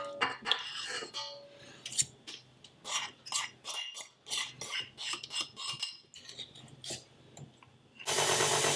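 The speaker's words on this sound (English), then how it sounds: "Add the melted butter and whisk to combine." A whisk beats melted butter into cake batter for French apple cake in a bowl, with quick irregular scraping and tapping strokes at close range, quiet, ending in a louder rush of noise.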